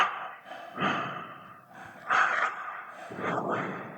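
Heavy, uneven breaths huff close into a Synco X Talk X Pro 5 headset microphone with noise cancellation off, several rough inhales and exhales with short pauses between them.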